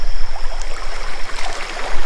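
River flowing by a riverbank, a loud, close, continuous rush of moving water with uneven surges and no voices.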